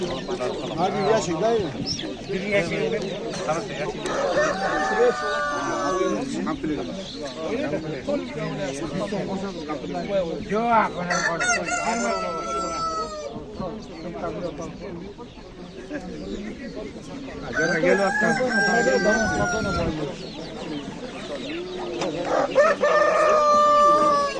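Chickens and roosters at a busy poultry market in Bishkek, with breeds such as Adler, Kuchinskaya and Brahma for sale: repeated loud crowing and clucking from many birds, near and far, mixed with steady crowd chatter.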